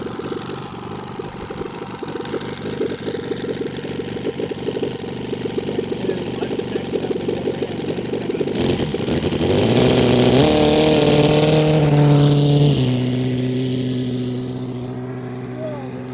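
A large RC airplane engine drones steadily throughout, then its pitch rises and holds a higher buzzing tone as it throttles up for takeoff, with people talking in the background.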